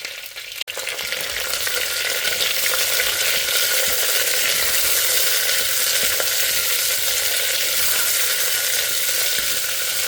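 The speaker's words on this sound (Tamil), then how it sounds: "அப்படியே கரக்கரான்னு எல்லாம் பொரியறது." Loud, steady sizzling and crackling of spices frying in hot oil in an old stone pot, close up and continuous, with no talking.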